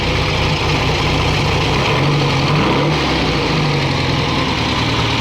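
A 1969 VW Baja's air-cooled engine idles steadily at close range with dual Kadron/Solex carburetors, a continuous low rumbling putter with no voices.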